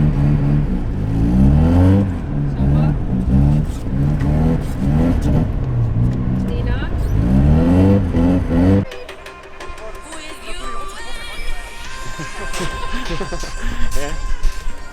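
Rally car engine revs hard in repeated rising and falling bursts up close, then drops to a lighter mechanical whir and rattle, with people talking over much of it.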